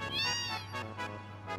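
A cat meows a few times in a row, a drawn-out first meow followed by shorter ones, fairly faint over a low steady hum.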